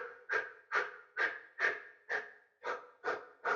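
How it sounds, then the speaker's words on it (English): Breath of fire yoga breathing: eight quick, forceful exhales through the mouth or nose in a steady, even rhythm, close and clear with nothing else heard. "here, if you want, you can do what's called a breath of fire."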